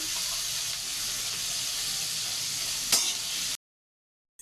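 Onions and whole spices with bay leaf sizzle steadily in hot oil, a loud continuous hiss with one brief sharper crackle near the end before cutting off.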